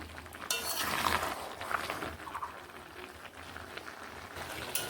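Boiled mixed vegetables are stirred in a cooking pot for a Bengali vegetarian curry, with a steady bubbling simmer and repeated soft scraping and light clinks of a utensil against the pot.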